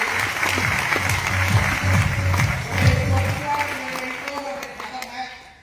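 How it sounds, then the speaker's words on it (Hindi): Loud, continuous applause from a crowd at a community gathering, rising and holding before tapering off toward the end, with some low murmuring underneath. "एक बार जोरदार तालियां भावना समाज के लिए।"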